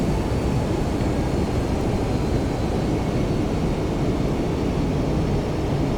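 Steady, loud engine roar of a Boeing 757-200 in a flight simulator game, a broad continuous rumble holding evenly throughout with no talk over it.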